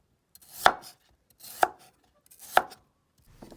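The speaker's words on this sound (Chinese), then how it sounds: "土豆去皮，切成滚刀块" A knife chops a peeled potato into roll-cut chunks, giving three sharp, evenly spaced thuds on a cutting board with quiet gaps between them, followed by a softer fourth knock at the end.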